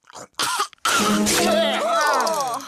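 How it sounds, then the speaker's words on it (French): A cartoon boy with a cold coughs a few times in quick bursts, then his voice trails into throaty, congested vocal sounds, close and fairly loud. "Mon garçon, quand on tousse, on met sa main devant sa bouche"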